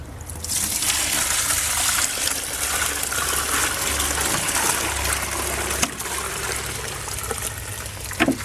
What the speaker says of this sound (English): I strain all this liquid out through here, so try not to splash any on myself.